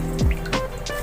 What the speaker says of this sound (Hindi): देखिए अच्छे से हमने प्रेस करना है इसे, इसमें से जो पानी है ना वो निकल जाए।